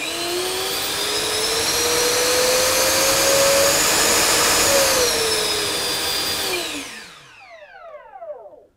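A Freewing BAe Hawk 70mm EDF jet fan on 6S power spools up to a loud, steady whine and roar with rising pitch, holds near three-quarter throttle, then winds down and fades to silence, close and alone.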